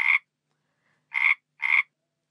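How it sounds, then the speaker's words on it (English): A toad croaks three times in short, raspy bursts: one call, a pause, then two more in quick succession, clear and close with silence between. "A toad."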